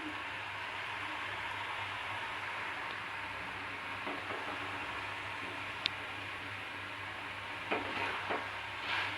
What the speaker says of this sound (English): And we have to keep on stirring